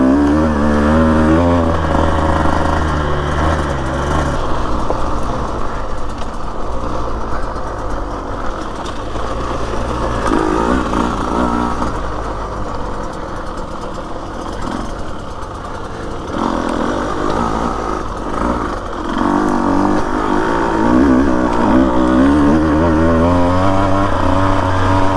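A Husqvarna TE150 dirt bike engine revs and strains while climbing single-track trail in Florence, Arizona, a steady, loud buzzing drone rising and falling in pitch with throttle changes for about twenty-five seconds.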